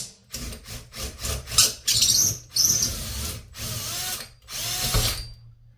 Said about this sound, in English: Now I need to open this up, and then I need to drill out these pop rivets.